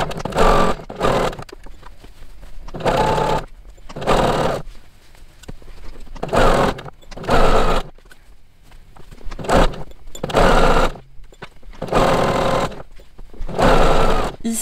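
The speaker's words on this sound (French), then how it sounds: "Et je vais venir coudre l'encolure." A domestic sewing machine stitches the neckline of a blouse, running in repeated bursts of steady whirring a second or so long, separated by short pauses, loud and close with no talk.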